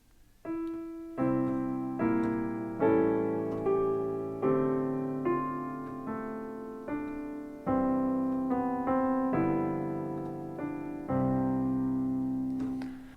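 Solo piano plays the second line of the carol O Little Town of Bethlehem, a series of clearly struck chords and melody notes that ring and decay one after another at a calm, even pace.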